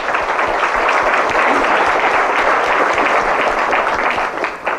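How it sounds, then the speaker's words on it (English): Dense, sustained applause from a room of business networking members at a BNI meeting, many hands clapping loudly and evenly for several seconds before tapering off slightly at the end. "Let's give them a warm round of applause."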